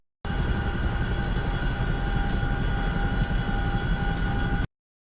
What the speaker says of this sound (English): Chinook.